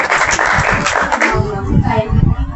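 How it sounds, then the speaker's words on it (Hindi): A church audience claps in a loud, dense patter during a pastor's service while a voice talks over it. "इसके लिए तालियां बजाएं आप"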